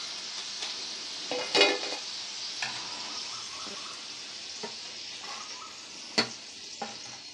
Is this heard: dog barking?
no